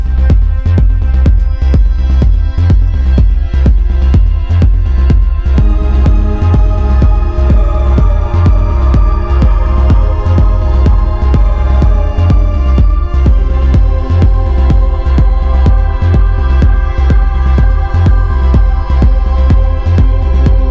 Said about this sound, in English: You can hear it running through a gigantic reverb.